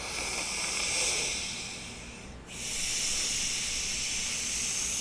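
Long, steady breaths with a hissing, airy rush, one inhale then a brief pause before another begins, close and fairly loud with no talk, fitting ujjayi breathing drawn in through the nose.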